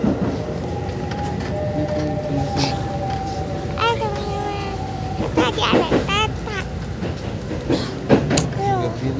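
A KAI passenger train in Indonesia, with steady rail rumble and horn-like tones under a public-address style voice and ambient station noise, moderately loud throughout.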